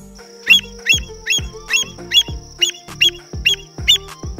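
Repeated calls of a curved-billed bird, probably a curlew-type shorebird, ring out loud and close in a steady series of about eight evenly spaced, sharp whistled notes with no other sound.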